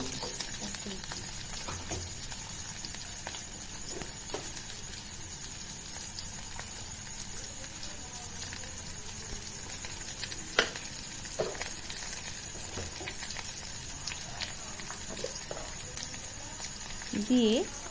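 A steady, soft sizzle of chana dal sautéing in a pan with salt, turmeric and cumin powder, continuous throughout with faint stirring scrapes and a voice talking over it.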